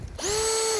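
A Baur 20 volt cordless drill briefly spun up with a quick rising whir that settles into a steady high whine, close and moderately loud, lasting under a second before stopping, with no talking.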